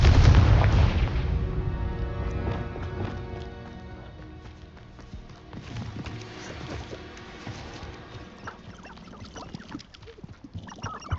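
A Confringo fire spell explodes in the Hogwarts Legacy video game, one loud booming blast at the start that trails off into crackling, rumbling game ambience and scattered clatter.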